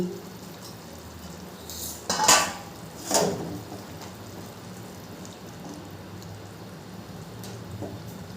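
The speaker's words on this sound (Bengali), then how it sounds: "2 মিনিট পর ঢাকনাটা আমি তুলে নেব।" A metal lid comes off a pan of bata fish jhal cooking with mustard and poppy seed: two distinct clanks a second apart stand out over a steady background hiss.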